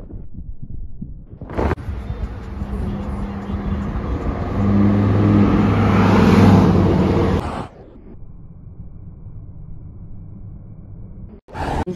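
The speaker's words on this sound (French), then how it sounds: "Je vous filme ce petit break E63 AMG, très sympa, j'adore cette génération de Mercedes." A Mercedes E63 AMG estate sweeps past in Saint-Tropez, its engine rising to a loud, close roar for several seconds before dropping away, and a quieter vehicle rumble follows.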